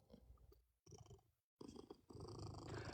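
A cat purring close by, a steady low rumble broken by brief gaps, with muffled handling noise around it.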